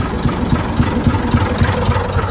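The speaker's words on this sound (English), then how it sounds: "The sweet sound of old diesel engines. 2 buses running." Two old diesel buses idle together, a loud, close, steady low rumble with a rhythmic knocking chug running throughout and no voices.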